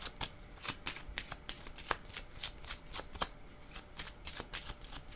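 A deck of tarot cards is shuffled and drawn. Rapid, crisp riffling flicks follow one another in a quick, uneven rhythm, close and clear, with no talking.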